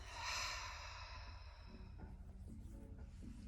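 A deep, slow exhale during yoga breathing, a soft breathy rush that fades into quiet room tone, close and alone without talking.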